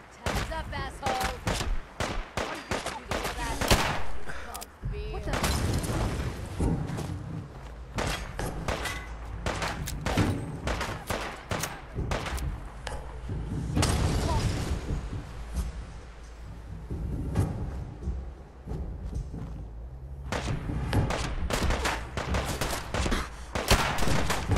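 Gunfire in Fallout 4 during a battle at the Castle, rapid bursts and single loud shots with heavy thuds repeating throughout, punctuated by brief pauses, with some shouted voices mixed in.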